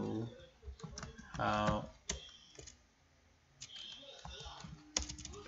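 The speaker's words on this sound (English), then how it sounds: "So I keep typing hello," Typing on a computer keyboard while testing a Django chat application: scattered key clicks in short bursts, fairly close but quiet, with someone talking over parts of it.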